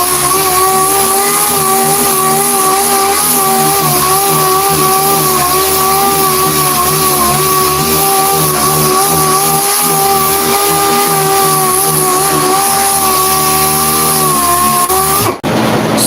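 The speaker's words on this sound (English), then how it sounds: "this is a disc orbital sander. It spins in multiple directions at the same time." A disc orbital sander runs continuously while sanding peeling paint off a car, giving a loud, steady, tonal motor whine with a rough grinding undertone that cuts off abruptly near the end.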